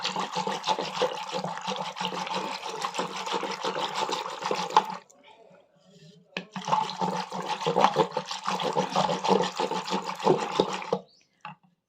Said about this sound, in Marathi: दही चांगलं घोटून घेतलेलं आहे